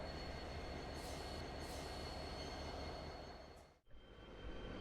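Railroad locomotive rolling along the tracks, a loud continuous rumble and wheel noise with faint high squeals, briefly dipping near the end before resuming.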